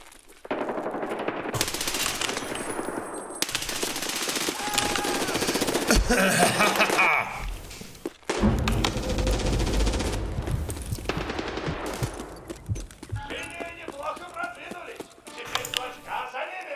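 Rapid machine gun bursts and scattered gunshots fill a video game arena match, loud and nearly continuous with brief pauses, while a person talks over the shooting.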